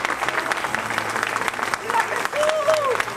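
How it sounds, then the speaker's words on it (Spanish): Church congregation applauding during a Spanish-language mass honoring the Blessed Sacrament, a dense crowd clapping with short whistle-like tones and a voice rising over the applause toward the end. "Más fuerte el aplauso al Señor"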